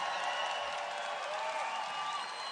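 Rally crowd applauding and cheering at a political rally in Arizona, a steady, dense wash of clapping and shouts that holds loud and unbroken throughout, close and enveloping.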